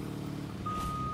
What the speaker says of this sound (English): When did they add a backup siren?